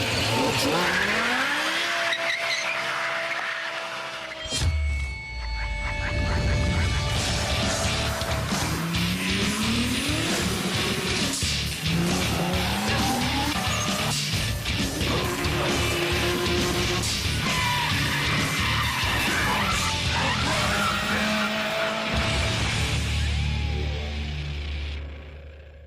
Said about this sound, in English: Irish driver Nigel Culfer in his 650 horsepower Nissan S13